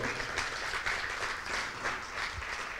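Congregation applause during a church sermon, sustained dense clapping from many people, fairly soft and steady, with no voices over it.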